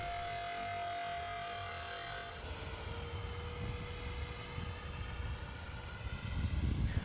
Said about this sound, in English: I decided to land, which is very easy with the model skating along nicely on the underwing fuel tanks